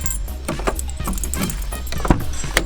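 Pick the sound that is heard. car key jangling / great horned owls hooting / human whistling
car key jangling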